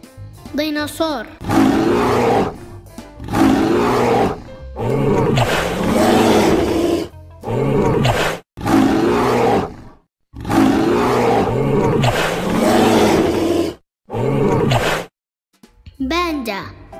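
Dinosaur roars sound in repeated long, loud bursts, each growling bellow lasting a couple of seconds and separated by short silences, with a voice briefly heard between them.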